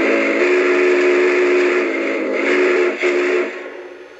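A steady, loud Lionel Vision Line 4-6-6-4 Challenger model steam locomotive whistle with layered harmonic tones sounds continuously, briefly dipping near the end before fading off.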